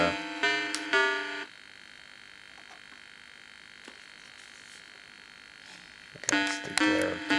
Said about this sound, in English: Yes, it does an annoying buzzing sound.